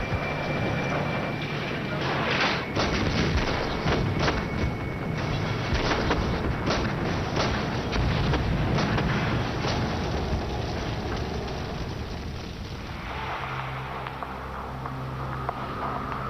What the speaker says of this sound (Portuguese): os russos atacaram a maior barragem de artilharia da história no centro de uma cidade